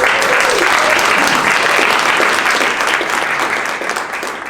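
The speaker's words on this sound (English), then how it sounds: "I think that that deserves a round of applause itself." Audience applauding at a Port of Oakland press conference, a steady, dense wash of clapping that holds loud throughout and tapers slightly toward the end.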